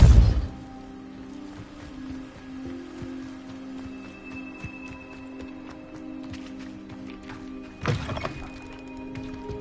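A Depulso spell goes off in a Harry Potter video game: a sharp, forceful burst at the start, a quiet ambient stretch, then a second, similar burst near the end.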